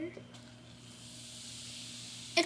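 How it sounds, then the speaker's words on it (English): Steady soft fizzing hiss from a toy cauldron tablet dissolving in water, continuous and close, ending with a brief louder splash or rustle. "It's fizzing."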